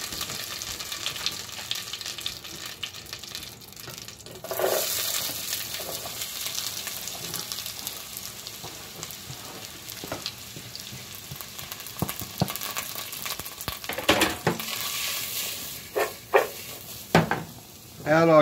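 Vegetables sautéing in butter in a pot for minestrone soup, a steady crackling sizzle that swells after they go in, with intermittent utensil clatter and stirring close by.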